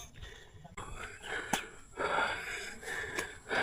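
Heavy, ragged panting from a hiker high on a steep, relentlessly uphill trail near the Ambon-Ambon falls on Tagaytay's eastern side, close and breathy with wheezy inhales and exhales repeating through the whole stretch, with no talking.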